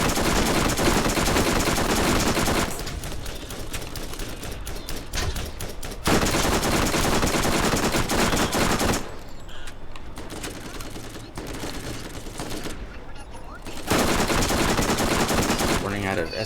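Submachine gun fire in the shooter video game Borderlands rattles in loud, dense, sustained bursts with brief dips between volleys, filling the whole stretch alone.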